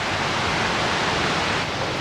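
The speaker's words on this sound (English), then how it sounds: "I hear a waterfall." A woodland waterfall at Two Medicine in Glacier National Park gives off a brief, constant hiss of falling water, steady and unbroken, with no one speaking.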